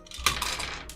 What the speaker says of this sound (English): It's the sound of dice.